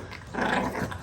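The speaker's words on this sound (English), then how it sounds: "Her and the puppy be going crazy, man." A bulldog and a puppy play together, with low, rumbling growls that swell in the middle and taper off, close to the microphone and without any talk.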